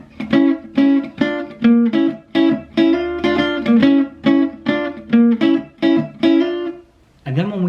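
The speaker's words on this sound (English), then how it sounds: "we're playing these really cool double stop ideas. Kind of like a horn section style type line" Jump blues electric guitar playing a horn-section-style double stop lick: about thirteen short, punchy two-note stabs in a bouncy rhythm, clear and close, with a brief different chord at the end.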